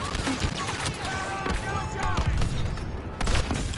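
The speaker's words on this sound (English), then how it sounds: "we're in a barrage" Barrage of explosions and gunfire in Star Wars Battlefront 2, a dense, continuous din of booms, shots and whistling projectiles, loud and close throughout with a voice briefly mixed in.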